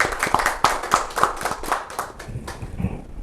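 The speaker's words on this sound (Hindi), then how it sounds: "तो एक बार जोरदार से तालियां हो जाए इनके लिए।" Audience clapping at a Rajasthan Parishad interview event, starting as distinct rhythmic claps near the listener, then thinning out and fading toward the end.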